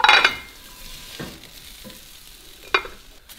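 Eggs frying in a pan give a steady sizzle under scattered utensil scrapes and clinks, with a sharper clatter at the start and another near the end.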